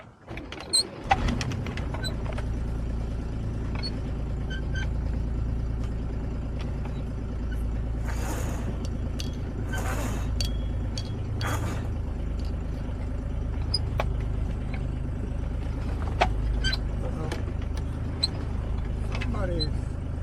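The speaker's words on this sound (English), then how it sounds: "we can start the engine and make our way back" A boat engine starts and settles into a steady low idle on a bay outing. The rumble runs loud and close throughout, with scattered talk from people aboard over it.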